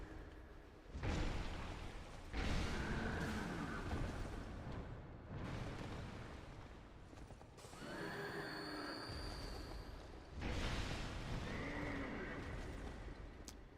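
Horses whinny and neigh repeatedly in loud bursts in the video game Dark Souls II: Scholar of the First Sin, with rumbling noise and game-like effects between the calls.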